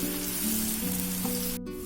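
A spice paste for a brinjal and potato fry sizzles in a pan with a soft, even hiss over a steady tonal hum, ending with a brief cut of silence near the close.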